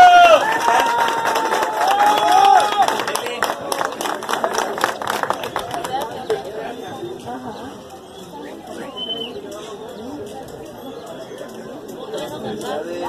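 A crowd applauds and chatters at an award ceremony for a Christmas charity race in Tonalá. Dense clapping fills the first half, then thins into a steady murmur of voices.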